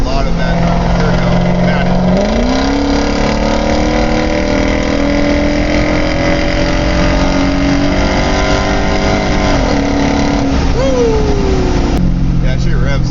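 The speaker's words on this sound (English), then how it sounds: "Yeah, she revs." An Infiniti Q45 V8 fitted with Audi R8 coil packs revs in a dusty area of Mexico: a steady idle climbs into a sustained high-rpm drone, holds for several seconds, then drops back to idle.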